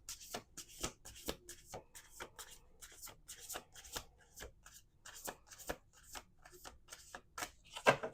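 Rapid riffle shuffles of playing cards, crisp fluttering bursts repeating across the clip with short pauses between, close and clear.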